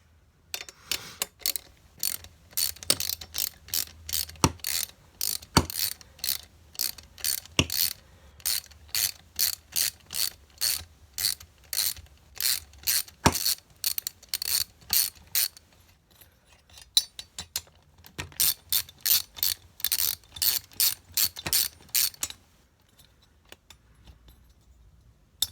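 A ratchet wrench clicks in fast, repeated bursts as it loosens the cylinder head bolts on a Tailgator generator. Each pull makes a sharp run of close pawl clicks, with short pauses between strokes and no talk.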